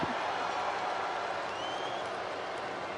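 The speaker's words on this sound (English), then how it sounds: "as this crowd is booing Demolition." A wrestling arena crowd boos in a steady broad roar of voices, a dense continuous wash of noise that holds the whole time.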